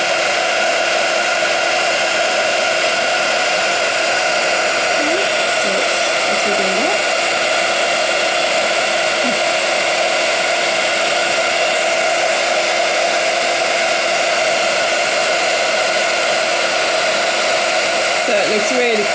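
A heat tool blasts a constant, loud whirring hiss while melting gold embossing powder for stamping, steady and close for the whole stretch with a few faint squeaky tones underneath.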